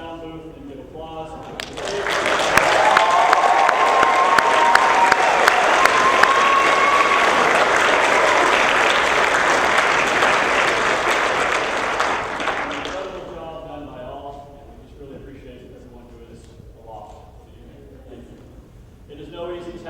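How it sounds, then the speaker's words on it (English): Theater audience applauding the sound booth crew at the close of a Macbeth stage play: dense, loud clapping swells in, holds steadily for about eleven seconds, then fades away, with a voice speaking once it dies down. "lift your eyes to the sound booth and give applause"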